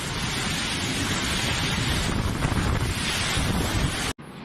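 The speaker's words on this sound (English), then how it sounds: "A thunderstorm brought heavy rain and powerful winds to Shah, the capital city of Selangor." Powerful thunderstorm winds during a storm with heavy rain in Shah Alam, Malaysia, roar as a loud, continuous broadband rush that batters the microphone, then cut off abruptly near the end before resuming.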